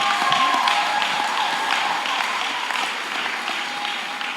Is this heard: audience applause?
yes